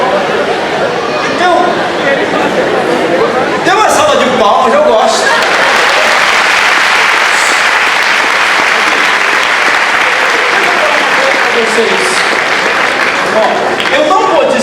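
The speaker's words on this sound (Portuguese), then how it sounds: "deu uma salva de palmas, eu gosto" A church congregation breaks into loud applause, first scattered claps and some chatter, then a full, sustained roar of clapping from a large crowd that holds strong to the end.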